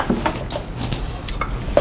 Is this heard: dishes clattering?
yes